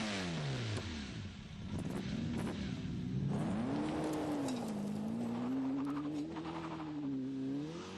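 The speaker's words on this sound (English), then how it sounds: "Engine start." A TVR Cerbera sports car engine starts with a rising whine, then settles into a loud, steady idle with a wavering hum close by. No voices are heard.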